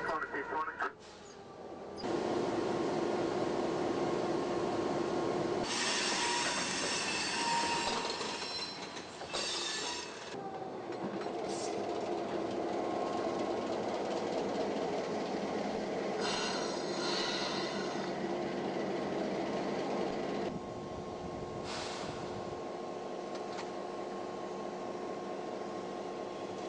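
A train engine runs on rails, its steady rumble, clatter and wheel squeal carrying on throughout at moderate level while people talk over it.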